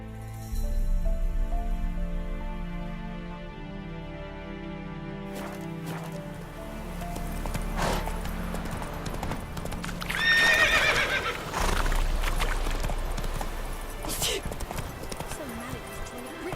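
A horse in The Witcher 3: Wild Hunt gives a loud whinny, then clip-clops along in a steady rhythm under background game music, with a voice speaking over it.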